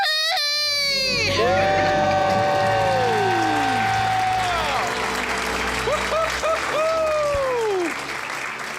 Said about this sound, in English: Let's hear a debt-free scream.